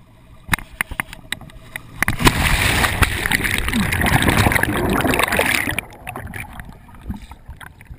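A person hops into deep open water behind a boat for a longline barefoot water-ski run, making a loud rushing splash and sloshing that lasts several seconds, followed by quieter water sounds, with faint voices.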